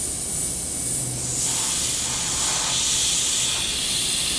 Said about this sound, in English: I'm bleeding it down slowly. I'll get the excess gas out of here.